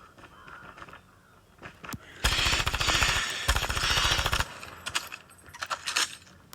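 Switchblade submachine gun in Call of Duty Mobile firing a long, loud, rapid burst of about two seconds, with a short pause and then more shots, followed by scattered clicks and clatter.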